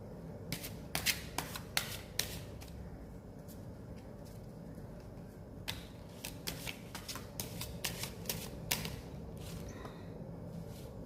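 Tarot cards being shuffled by hand, with bursts of crisp riffling and flicking in two main runs over a low background hum, close and fairly quiet, no talking.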